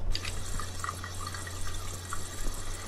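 Water running from a tap in the video game Mafia II, a steady close splashing flow with a few faint drips, alone without talk.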